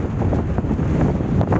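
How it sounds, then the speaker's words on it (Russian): Strong winter wind in Iceland batters the microphone with a loud, continuous broadband roar and gusty rumble for a short stretch, and no voices are heard. "Скорость ветра местами достигает до 40 метров в секунду."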